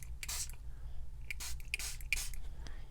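A few short hissing sprays from a spray bottle onto stencil edges, spaced about a second apart, close up and fairly soft.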